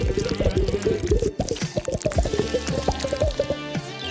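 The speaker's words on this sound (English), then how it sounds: "Let's pour the soap into the bottles." Liquid soap poured into small bottles for a kids' craft, a close run of glugging, filling and dripping sounds with rising bubbly tones, broken by a short pause, with light music behind.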